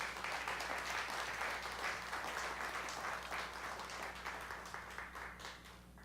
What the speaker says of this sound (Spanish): Dale un aplauso al Rey si tú lo crees